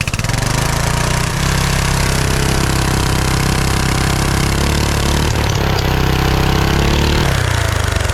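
A small lawn mower engine fitted with a turbocharger runs loud and steady close to the microphone, its harmonic drone holding throughout with a slight rise and fall as it revs.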